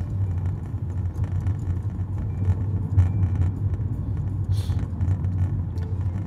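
A car's cabin during a drive through Manhattan near the World Trade Center site: a steady, close engine and road rumble fills the whole stretch, with faint traffic clatter and a brief brighter hiss partway through.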